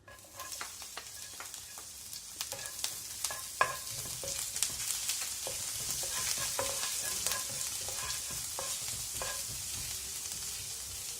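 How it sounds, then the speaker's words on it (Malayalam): Ginger fries in hot coconut oil left from frying dried red chillies, crackling and sizzling steadily with scattered pops and occasional stirring scrapes, close and fairly quiet. "നമ്മൾ വറ്റൽമുളക് ഫ്രൈ ചെയ്തെടുത്ത അതേ വെളിച്ചെണ്ണയിലേക്ക് തന്നെ നമുക്ക് ഇഞ്ചി ചേർത്ത് കൊടുക്കാം"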